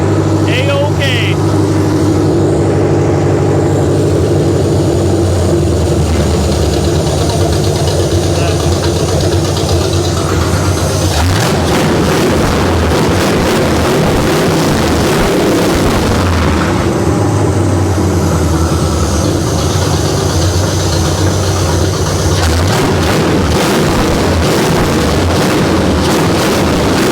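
A 1968 Camaro engine that had sat for years runs steadily in a loud, continuous rumble, with a few sharper revving bursts partway through.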